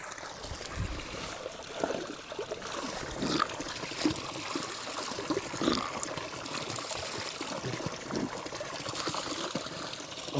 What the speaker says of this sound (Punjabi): ਇਸ ਪਾਣੀ ਦੇ ਕਿੰਨੇ ਫਾਇਦੇ ਆ ਜਿਹੜਾ ਜੰਗਲਾਂ ਦੇ ਵਿੱਚੋਂ ਗੁਜ਼ਰਦਾ ਇਹਨਾਂ ਜੜੀਆਂ ਬੂਟੀਆਂ ਨਾਲ ਲੱਗਦਾ ਥੱਲੇ ਤੱਕ ਆਉਂਦਾ ਆ